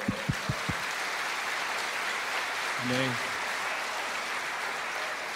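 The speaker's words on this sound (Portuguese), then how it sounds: "Mas a primeira, eu vou aplaudir ao Senhor." A church congregation applauds in praise, starting with a few distinct claps and then settling into a steady wash of clapping; one voice calls out briefly partway through.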